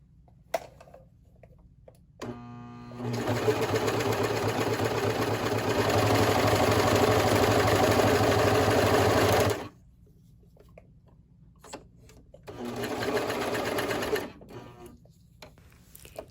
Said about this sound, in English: Now what I'm going to do is I'm going to finish serging the piece of fabric that I was working on